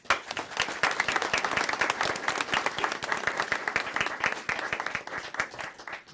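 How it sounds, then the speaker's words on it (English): A small room at a county commissioners meeting breaks into a round of applause, distinct individual claps forming a moderately loud, steady patter that lasts several seconds without talk. "Round of applause."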